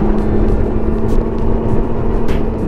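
Can-Am Ryker three-wheeled motorcycle carrying two riders, its engine and wind roar steady and loud from an on-board perspective, with no talk.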